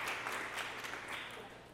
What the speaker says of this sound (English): Please hold your applause throughout the event, except for now as we introduce our participants.